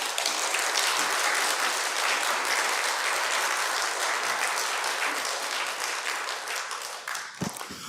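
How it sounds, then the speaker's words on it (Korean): An indoor church lecture audience gives sustained, even applause to welcome a speaker, a thick wash of clapping that holds steady before tapering slightly near the end. "나오실 때 박수로 환영해 주시면 감사하겠습니다."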